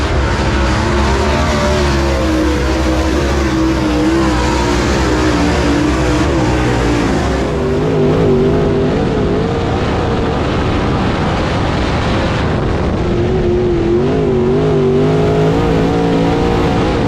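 Race cars at the National 100 at East Alabama Motor Speedway, a continuous loud roar of several engines rising and falling as they circle the track, close and sustained throughout with no pause.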